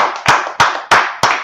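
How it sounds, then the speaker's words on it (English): Four sharp, evenly spaced bursts of clapping from a group at a church brotherhood and sisterhood class, loud and close, with no talking over them. "Let's clap it up for the Lord."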